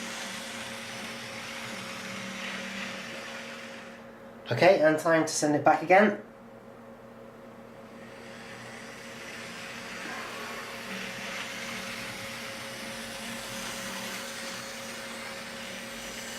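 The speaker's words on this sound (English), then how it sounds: "you can really hear the motor now" The motor of a Dapol Class 52 Western model locomotive runs as a steady, soft whirring hum throughout, with someone speaking briefly over it partway through.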